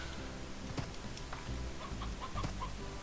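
Chickens in the video game Slime Rancher cluck in short, scattered calls over a steady background of game music and ambience.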